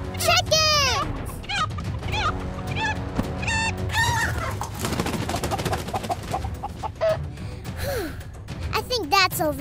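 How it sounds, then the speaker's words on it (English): Cartoon chickens cluck and squawk in a Thomas & Friends railway scene, mixed with gasps, busy sound effects and music, while character voices exclaim over the commotion. "Chickens!"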